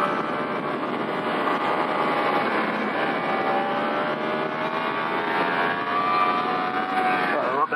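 A 2018 Yamaha YZF-R1 pulling hard on a race track in second gear, its engine note rising steadily in pitch as it accelerates, close and continuous with wind rush.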